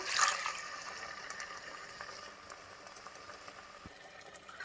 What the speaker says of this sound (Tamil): இப்போ நம்ம கொஞ்சம் தண்ணி ஊற்றிக்கலாம்